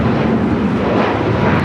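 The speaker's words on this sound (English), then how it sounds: "You know you can count on Cathay for a south side departure." A Cathay Pacific airliner departing from the south side runway at LAX gives a loud, steady broadband roar of jet engines that stays constant through the short stretch, with no talk.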